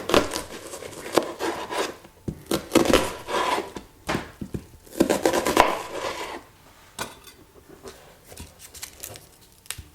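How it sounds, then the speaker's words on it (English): A knife thickly slicing a halved onion on a wooden board, with a run of firm, irregular chops and taps, fairly close and clear, without talk. "Halve and thickly slice the onion."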